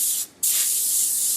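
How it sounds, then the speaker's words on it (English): Hairspray hisses from an aerosol can onto short hair being styled into victory rolls: a loud, close spray, a brief pause, then a second longer burst. "Then I'm going to take some more hairspray"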